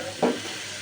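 Vegetables for khichuri stirred and frying in a pan, a soft continuous sizzle broken by one short scrape of the spoon, close and fairly quiet.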